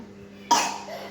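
A single sharp cough from a young boy who has a bad cough, close and loud against a quiet room.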